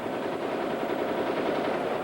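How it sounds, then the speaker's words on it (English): Rapid gunfire exchanged between soldiers at the Haiti parliament building, a dense continuous crackle of shots that holds steady and loud for the whole stretch, no voices. "The soldiers exchanged gunfire with other troops providing security for the building"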